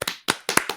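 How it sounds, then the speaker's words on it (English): Five quick, crisp hand claps, close and fairly quiet, come in an uneven rhythm with a short gap after the second clap. "But big round of applause, everybody"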